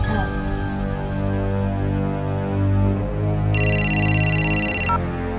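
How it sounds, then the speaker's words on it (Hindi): A phone rings on an outgoing call: a bright, pulsing electronic ring tone lasts just over a second, laid over steady background music. "आदि आए इससे पहले मैं वारुण को फोन कर लेती हूँ"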